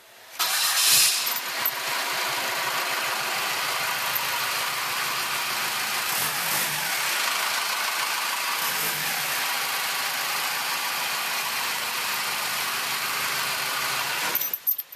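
Diesel engine of an early Ford Bronco cranks and catches, then settles into a steady, loud idle that rumbles on evenly for several seconds before a brief rough stumble at the very end.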